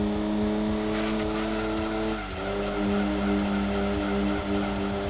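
Race car in Gran Turismo 2 on PS1, a steady loud engine drone with tire squeal and skidding through a corner, continuous and close, no voices.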